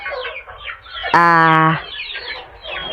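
Young gamefowl stags at a farm during vaccination and deworming, clucking softly around a loud, sustained squawk lasting about half a second.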